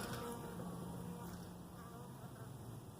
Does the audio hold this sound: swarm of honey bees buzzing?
yes